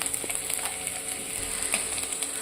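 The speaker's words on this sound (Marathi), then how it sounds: "वाटाणे आहेत ओले, तेही आपण तेलात टाकून घेऊया" Wet green peas sizzling and frying in hot oil in a pan, a steady close crackle with occasional sharper pops throughout, no talking.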